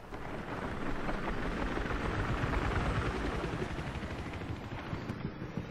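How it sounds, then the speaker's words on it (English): A military helicopter in the video game Battlefield 3 on an armored battle map, a steady loud rotor and engine roar that runs unbroken throughout, with no voices over it. "Helicopters!"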